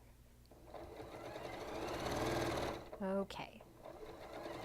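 A sewing machine runs steadily while stitching quilt seams, its motor hum rising and holding for a couple of seconds before stopping, then a brief whir; a person speaks briefly near the pause.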